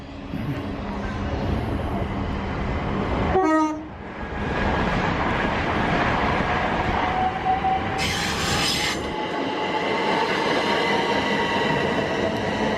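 A train on a line near Southall in west London gives a short horn toot over steady rail rumble, with a brief dip in the noise as it passes and then continuing wheel and track noise.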